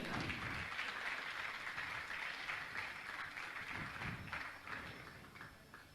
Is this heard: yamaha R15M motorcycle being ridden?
no